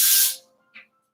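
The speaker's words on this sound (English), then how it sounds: "I'm going to spray my measuring cup so I can get the peanut butter out." Cooking spray hisses into a measuring cup in a single short, loud, close burst, then a faint second puff follows in a quiet kitchen.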